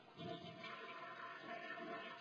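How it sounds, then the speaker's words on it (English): A toilet flushes with its supply valve shut, the tank emptying in a steady, continuous rush of water heard faintly and without any talking. "flush the toilet,"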